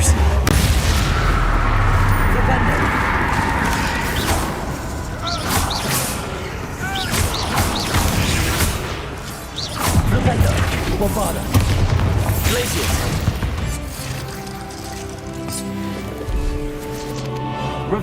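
Spell explosions from Confringo and Bombarda in Hogwarts Legacy boom almost without a break, a dense, loud stretch of blasts and rumbling with crackling over a deep low roar, and no voices.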